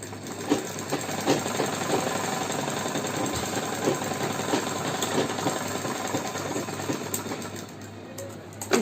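A sewing machine runs steadily while stitching a Punjabi Patiala salwar, a close, continuous rapid mechanical whirring and clatter with someone speaking over it.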